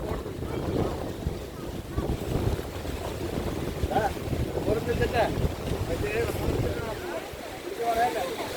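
Strong wind buffeting the microphone at Ervady Kodimaram beach, a steady low roar with surf beneath and voices talking intermittently over it.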